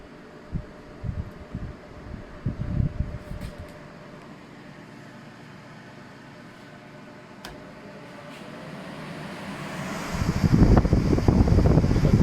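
Blower fan salvaged from an old gas furnace, switched on by a small on-off switch, starts with a few knocks and handling noises, then builds into a steady broadband whoosh of moving air that grows louder toward the end.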